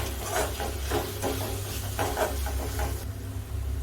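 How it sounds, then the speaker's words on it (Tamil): Spice masala for a chicken and potato curry sautéed in oil, a steady close sizzle with a low hum under it and repeated soft scraping strokes as it is stirred. "இப்போ இந்த மசாலாவோட பச்சை வாசனை போகிற வரைக்குமே நம்ம எல்லாத்தையும் வந்து நல்லா வதக்கி விட்டுடலாம்."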